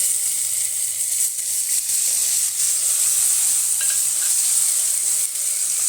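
A loud, steady sizzle of tomato frying with tempering spices in a little oil fills the whole stretch, with faint stirring scrapes and no voices.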